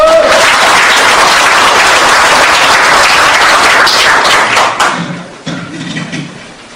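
A hall full of people at a provincial party founding convention claps loudly and steadily for several seconds before the applause thins out and fades, leaving scattered claps and low murmurs.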